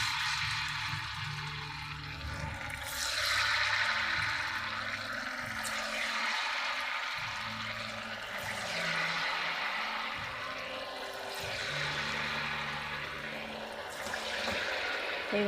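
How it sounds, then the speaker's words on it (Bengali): Rasbora dumplings are fried in hot oil in a wok. A steady, close frying hiss swells and eases in slow surges throughout, with no voices. "এবার আমি রসবড়াগুলো তেলের মধ্যে দিয়ে দেব।"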